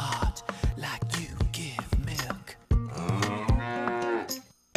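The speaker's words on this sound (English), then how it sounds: "Excuse me while I talk to this cow that is grazing." A grazing cow in an animated cartoon scene gives several loud, close, drawn-out moos, broken up by short sharp accents and a fuller stretch near the end.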